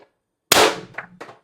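An IntruBuster Gen 2 air rifle fires a single sharp, loud crack, followed by a couple of short metallic clicks and rattles.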